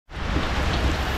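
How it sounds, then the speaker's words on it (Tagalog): Rain pours down steadily in a short burst of dense, even hiss that starts abruptly and stays loud with no voices. "nag-ulan na oh."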